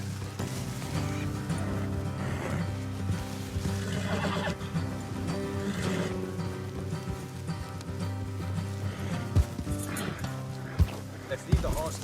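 Horses whinny in the Red Dead Redemption 2 game beneath steady music and rain, and a voice speaks over the soundscape, which sometimes brings in soft hoof clops and a few sharp thuds near the end.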